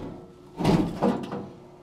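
A hidden door to a bomb shelter swings open, giving a soft scraping thud followed by a couple of lighter knocks, fairly close and quiet, with no talking.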